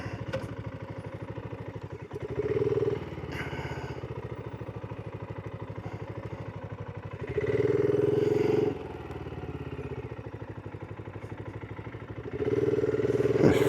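A retro cafe racer motorbike engine runs with a steady low thumping idle, broken by three short louder bursts as the throttle is opened and released.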